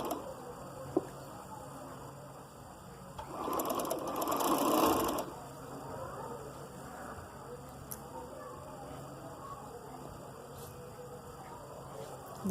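A sewing machine stitches black lace onto a shirt in one loud, fast, whirring burst of about two seconds. Quiet room hum and faint clicks come before and after it.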